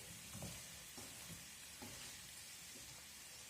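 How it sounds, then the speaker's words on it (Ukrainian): Salad of red beetroot and fish is stirred together with salt and pepper, giving soft, repeated wet squelches and scrapes in an irregular rhythm over a steady background hiss, fairly quiet and close. "Так, я це вже все перемішую разом з тою сіллю."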